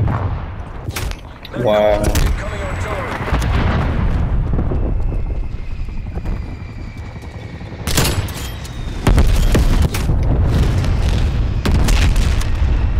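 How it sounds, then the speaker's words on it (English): Artillery strike explosions in the video game Call of Duty: Black Ops Cold War, heavy booming blasts and rumbling impacts arriving in several loud waves, with gunfire and a brief spoken exclamation mixed in. "Artillery targeting detected."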